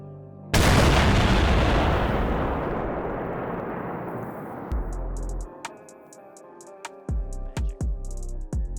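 An explosive charge detonates in Arma 3 with a sudden, very loud blast that rolls off into a long fading rumble, followed by a few distant thuds and sharp clicks.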